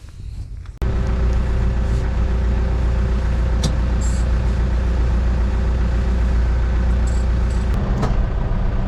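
A farm tractor's engine starts and then idles steadily and loudly, a constant low rumble, while it is readied with buckets for moving snow in winter.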